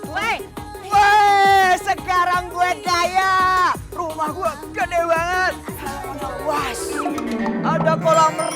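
A goat bleats again and again in a series of loud, wavering cries close by, mixed with people talking and arguing in an Indonesian comedy drama scene.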